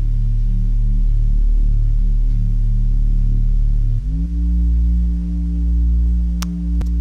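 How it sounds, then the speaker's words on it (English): Synth bass patch built in the free Vital synthesizer from a unisoned square wave, a loud, thick sustained low tone that holds one note and then shifts to a new pitch partway through, with no voices. "basic synth patch here, made in Vital, which is a free synthesizer"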